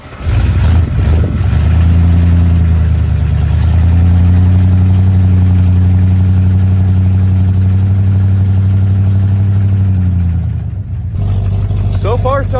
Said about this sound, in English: we're gonna go ahead and cold start this thing, see how it wants to fire up and idle